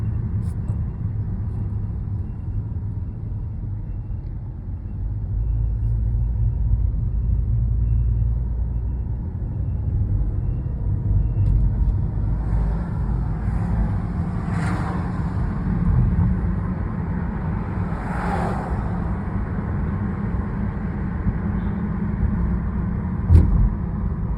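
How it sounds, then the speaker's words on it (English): A Fort Myers Beach bus drives past on a beach road, a steady low engine rumble that rises and lingers for a long stretch at moderate distance, with faint traffic hiss and no talk. "Bus. Fort Myers Beach bus, I think."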